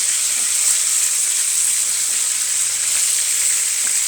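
Fish frying in hot oil in a home kitchen pan, a steady bright sizzle that holds evenly throughout without pause, close and fairly loud with no talking.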